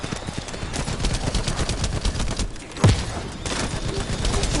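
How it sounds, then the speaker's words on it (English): Rapid handgun fire in The First Descendant shooter game, a dense stream of popping shots running throughout with one heavier thump midway, fairly loud and without speech. "It's a handgun. Pop, pop, pop, pop, pop."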